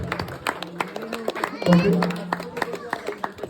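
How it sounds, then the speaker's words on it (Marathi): Audience clapping at a Scotland Cricket Club 25th anniversary celebration, a scattered patter of hands under a speaker's voice and crowd chatter, swelling briefly near the middle. "आपल्या टाळ्या त्यांच्यासाठी असू दे"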